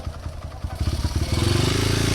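An enduro motorcycle rides a dirt trail, engine chugging in rapid pulses that climb into a steady revving drone, with rattling clatter close by.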